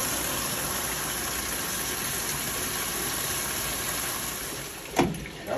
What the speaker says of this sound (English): That little pump.